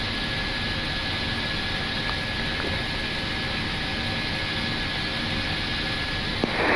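An airplane engine roaring during takeoff, a steady loud broadband rush heard from inside the aircraft, with no talk over it.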